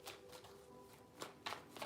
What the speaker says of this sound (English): 3 shuffles for Pisces